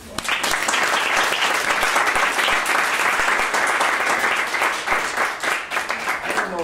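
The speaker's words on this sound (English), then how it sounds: "Can we give them another applause?" An audience at a school heads' forum applauds students with a sustained, dense wash of clapping from many hands that swells quickly and holds steady, then thins slightly toward the end.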